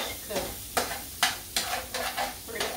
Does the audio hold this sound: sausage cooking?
yes